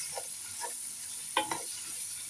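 Food sizzles softly in a pan while a utensil stirs and scrapes it, with two sharper clinks near the middle of a short, quiet stretch.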